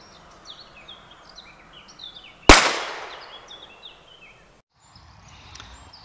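A single sharp gunshot from banned ammunition fired at a target about 10 metres away outdoors, with a loud crack and echoing tail, while birds chirp in the background.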